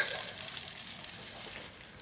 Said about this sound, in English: Just give that a good sizzle.